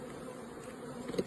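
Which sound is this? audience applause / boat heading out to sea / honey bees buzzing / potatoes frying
honey bees buzzing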